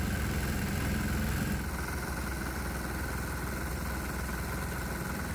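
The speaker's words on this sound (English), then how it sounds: "the propane, even though it's causing the engine to knock even louder" Small diesel engine running on propane and knocking loudly, a continuous dense rattling drone heard alone and close, shifting slightly in tone partway through.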